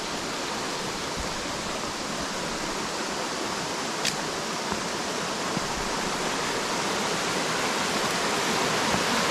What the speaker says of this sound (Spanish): Estamos en Cascadas del Real, Nayarit, mis amigos.